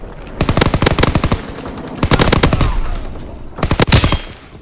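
A fighter's strafing run in a WW2 video game unleashes loud, rapid machine-gun bursts, three long rattling volleys separated by short pauses, close and punchy.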